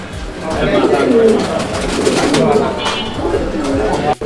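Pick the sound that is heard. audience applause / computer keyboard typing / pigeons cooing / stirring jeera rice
pigeons cooing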